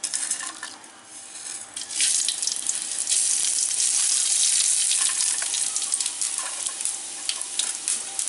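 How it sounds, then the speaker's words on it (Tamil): Fennel, cumin, cinnamon, cloves and cardamom fry in hot oil for a village-style crab gravy, giving a loud, steady hiss and crackle that builds after a brief softer moment, with no talking. "பட்டை, கிராம்பு, சீரகம் வந்து நல்லா பொரியணும் எண்ணெயில்."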